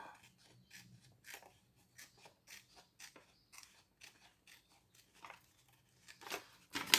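Scissors snipping through paper for an art journal, a rapid series of small crisp cuts and clicks, close and quiet, with no speech.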